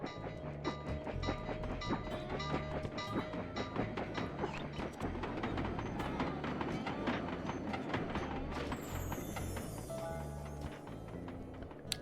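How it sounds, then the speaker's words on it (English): A train rumbles past in the Sly 2: Band of Thieves video game, a dense, steady clatter of rail wagons with rhythmic clicking that fills the whole stretch, loud and close, with a hissing burst near the end. "I should have tried to beat the train."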